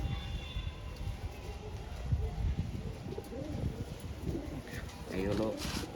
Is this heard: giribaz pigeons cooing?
yes